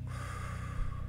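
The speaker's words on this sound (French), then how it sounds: "Alors, on va faire une respiration." A single deep breath taken slowly, a soft airy inhale with a nasal edge, close and quiet, heard alone with no speech.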